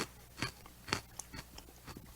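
Crunching bites into freeze-dried Fruitella candy, once chewy squares now puffed up like little pillows, giving a few sharp, close crunches spaced across a quiet moment.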